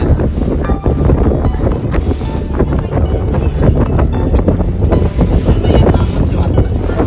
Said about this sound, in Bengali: এই এত ঢেউ হচ্ছে না?